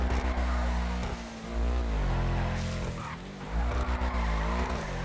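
Tires skid and screech as the handbrake is pulled on an Ubermacht Sentinel GTS fitted with Uzo tuner wheels in GTA V, the sustained squeal rising and falling over a steady engine drone.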